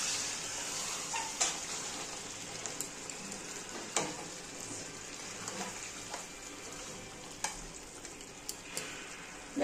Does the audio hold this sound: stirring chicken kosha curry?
yes